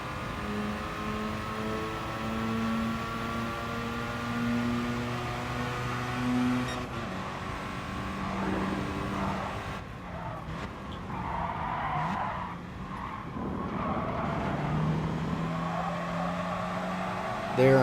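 A race car in Gran Turismo Sport, its engine whining upward through repeated gear changes with tire squeal, then braking and accelerating again while someone talks over it.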